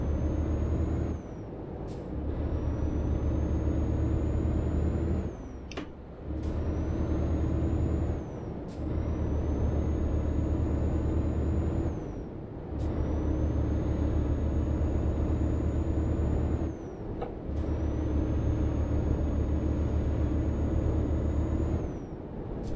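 Truck engine in the game Euro Truck Simulator, a steady droning rumble that rises in pitch and drops abruptly at each of several gear shifts, with brief hisses and clunks between shifts over about twenty seconds.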